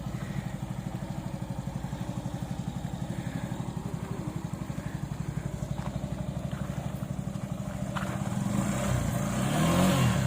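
A motorcycle ridden by a mother idles with a steady, close low putter and throbbing rhythm, then revs louder and pulls away near the end.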